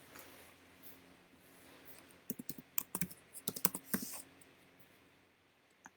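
A quick burst of soft clicking keystrokes on a computer keyboard rises after a quiet stretch, closely spaced and irregular, then fades back to low room noise.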